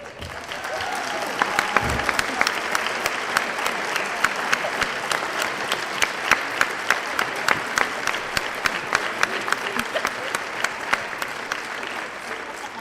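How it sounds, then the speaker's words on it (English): An audience at a 2019 National Honor Society induction ceremony applauds the inductees, sustained dense clapping from a large crowd with a few sharper individual claps standing out throughout. "We're going to applaud again for our 2019 inductees to the National Honor Society"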